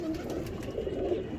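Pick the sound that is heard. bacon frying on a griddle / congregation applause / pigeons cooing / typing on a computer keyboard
pigeons cooing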